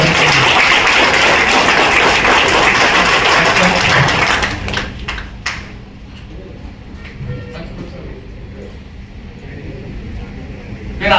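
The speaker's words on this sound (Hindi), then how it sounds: "एक बार जोरदार तालियां इस प्रोडक्ट के लिए।" Loud, dense applause for a product at a product training session in Rourkela, a packed burst of many hands clapping that cuts off after about four seconds, leaving a few scattered claps and quiet room noise.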